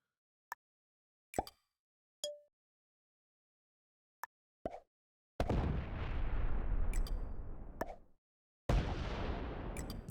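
Bomb blasts in the strategy video game Risk: scattered short pops and clicks separated by silence, then two longer, rumbling explosion bursts, each fading out.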